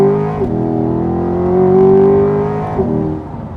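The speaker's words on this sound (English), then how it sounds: "I hit the Z mode and I'll accelerate." A 2021 Chevrolet Corvette Z51 convertible accelerates hard in Z mode, its engine note climbing steadily through a gear with a brief dip at each shift, loud and close from inside the car.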